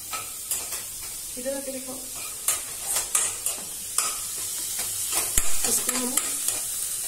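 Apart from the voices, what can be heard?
stirring capsicum frying in a pan until golden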